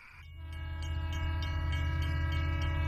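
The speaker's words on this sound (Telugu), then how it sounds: "ట్రైన్ సౌండ్ వస్తుంది చూడు" A train approaching and passing, its horn blaring in sustained tones over a rising rumble and rhythmic clatter of wheels, growing louder and staying close.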